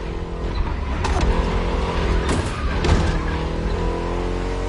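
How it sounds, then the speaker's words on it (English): A deep, throaty V8 car engine in the video game The Crew Motorfest drones steadily, swelling a few times as it revs, with no talking. "Just listen to that V8 like a chunky, down-tuned guitar riff."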